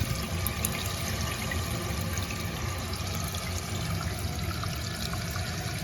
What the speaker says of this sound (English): The back tank should start filling.